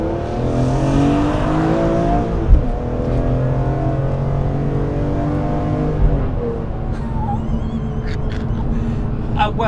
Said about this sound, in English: This engine is absolutely sublime. I mean, listen to that!